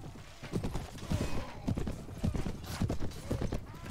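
Horse hooves clop in an irregular, fairly close rhythm in the Clash of Kings video game, with faint background noise underneath.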